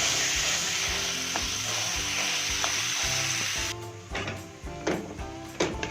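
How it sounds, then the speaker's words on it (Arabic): Minced meat hitting hot oil with golden fried garlic in a pan, a loud steady sizzle that eases off as the mixture is stirred, with scraping and knocks of a utensil against the pan. "هنزل باللحمه نبتدي نعصقها"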